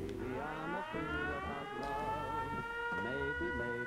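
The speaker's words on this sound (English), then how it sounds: "Let's activate the alarm and see what happens." A wailing alarm siren in the video game Fallout 4 blares continuously, its pitch sliding up and down in repeating cycles under a dense layer of harmonics, steady and loud throughout.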